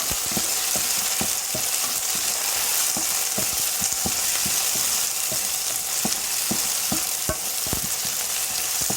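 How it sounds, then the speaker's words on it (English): Red beans and carrots cooking in a pot give a steady, loud sizzle and bubbling hiss, broken by frequent sharp stirring clicks and taps of a utensil against the pot, with no talking. "So I'll put in the carrots and then I put in the beans."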